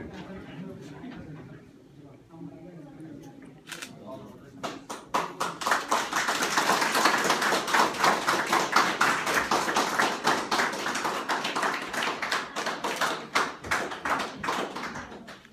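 Applause from an audience at a Nepali community convention greets the ceremonial lamp lighting. It begins with scattered claps after a quiet speaking voice, then builds into steady, sustained clapping from a crowd in a hall.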